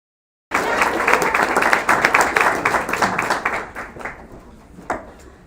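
Audience applause at a model UN closing ceremony, beginning abruptly after a brief silence, dense and loud clapping that thins and fades toward the end with a few scattered claps.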